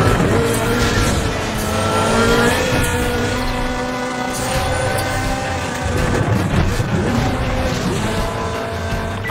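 Cars race through a street race in the video game Need for Speed The Run, with loud, steady engine roar and rising and falling revs from several vehicles, and occasional faint radio chatter underneath.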